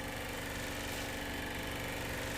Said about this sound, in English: Let me turn off this air conditioner real quick because that's that noise you're hearing.